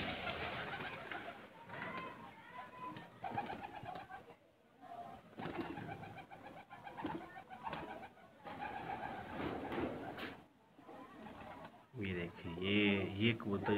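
Pigeons in a loft give deep, repeated rolling coos, close and clear, with someone talking over much of it and a louder burst of cooing at the end.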